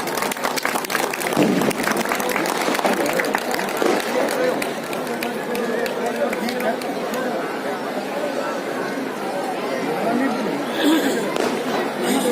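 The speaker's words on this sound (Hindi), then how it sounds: "एक बार जोरदार तालियों से स्वागत" A large crowd applauds to welcome a guest at a Chhath Puja gathering in New Palam Vihar. Dense, steady clapping runs throughout, mixed with crowd chatter and voices.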